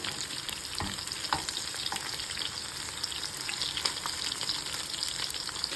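Sea bass frying in a pan, with a loud, continuous crackling sizzle throughout and a few sharper pops and spatters.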